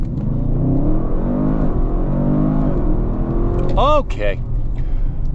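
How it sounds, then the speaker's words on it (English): An Audi RS7 Performance pulls off hard under launch control for a 0-60 run, its engine note rising through rapid gear changes, loud and close inside the cabin, with a short spoken word near the start. "I'm gonna do a real world 0-60 test here with launch control."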